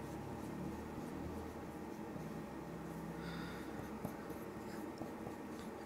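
Pen or chalk writing on a surface during a Hindi-medium Class 10 physics lesson, heard as continuous scratchy strokes close by in a quiet room with steady background hum.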